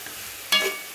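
Drumstick leaves hit a hot pan for murungai keerai chutney, a brief close sizzle and rustle that flares suddenly, then fades over a quiet background.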